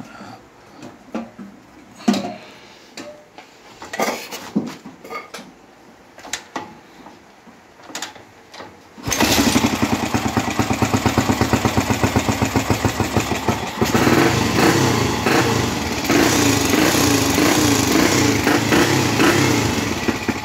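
A Gilera motorcycle engine starts after some handling noises, then runs loud and close with a steady rapid putter, the throttle raised to a higher, fuller rev partway through and held.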